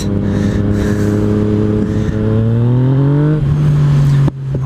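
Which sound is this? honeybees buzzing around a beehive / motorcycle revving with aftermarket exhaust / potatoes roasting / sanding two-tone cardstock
motorcycle revving with aftermarket exhaust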